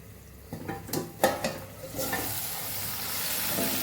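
Okra curry with masala cooking in a pan: a few scraping stirs and clinks of a spoon against the pan, then a steady soft sizzle carrying on alone.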